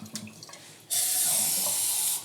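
Tomato seed pulp and water pour into a sieve as a sudden, close, steady splashing rush that starts abruptly after a brief quiet and continues to the end.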